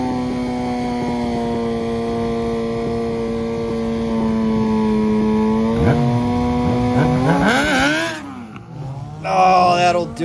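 ZRX motorcycle at a drag race launching down the strip, a loud steady engine drone with a rising pitch sweep and shifting revs as it pulls away, heard alone without talk.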